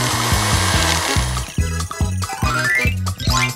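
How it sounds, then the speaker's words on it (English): A blender grinds cookies into fine sand-like crumbs, a loud, steady motor whir broken by rhythmic pulsing chops, close up with no talk. "If I blend these cookies long enough, they'll look just like sand!"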